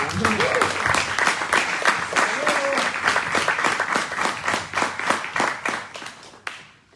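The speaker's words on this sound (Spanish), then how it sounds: "Le damos un aplauso." Applause from a church congregation, a dense run of hand clapping lasting several seconds with voices mixed in, tapering off near the end.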